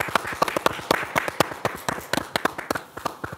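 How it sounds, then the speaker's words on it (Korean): An audience claps together in a studio, a run of sharp, irregular hand claps over a few seconds, fairly close and moderately loud, with no talking. "저희가 박수 드리도록 하겠습니다"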